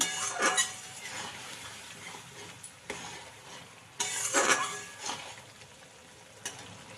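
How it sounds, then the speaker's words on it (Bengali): A garlic- and onion-free potato curry being cooked down in a pan after water is added, with a quiet sizzle, scraping stirs and a few bright clinks of a utensil against the metal. "জল দিয়েও একটু কষিয়ে নিচ্ছি"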